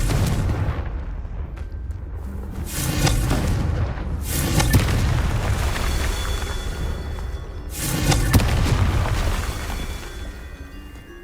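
Confringo blasting spell explosions in Hogwarts Legacy, three or four booming blasts with whooshing bursts spaced a few seconds apart over continuous game ambience, loud and close.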